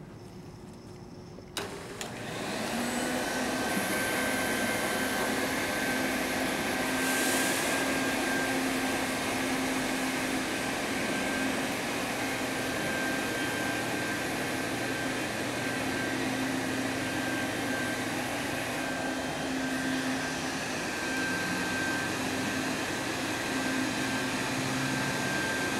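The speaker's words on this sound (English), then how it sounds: "Keep in mind it's a brush assist machine." AV12QX brush assist carpet cleaning machine with a low moisture spray bar runs steadily and loud, a constant motor drone with a high whine held throughout after a brief start.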